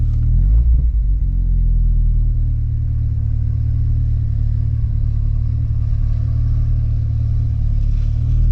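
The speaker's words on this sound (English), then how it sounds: "You got to hear this exhaust note before we move, because it sounds actually really good." A 1983 Volkswagen GTI MK1's 90hp engine exhaust rumbles steadily at idle, a deep, low burble close to the microphone with no talking.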